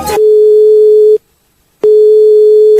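A mobile phone ringback tone on a Ukrainian mobile entertainment service, a loud steady electronic tone that sounds for about a second, stops in a brief silent gap, then starts again.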